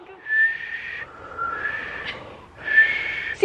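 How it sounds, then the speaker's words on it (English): A person whistles two sustained, steady notes with a short pause between them, fairly loud and close, with a quieter lower tone in the gap and no talking. "Let me hear you whistle."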